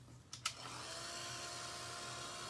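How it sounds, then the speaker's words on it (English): A hair dryer blows steadily and close on a watercolor painting of poppies, a continuous whirring rush that starts after a couple of clicks and runs to the end. "I'm going to hit mine with a dryer real quick."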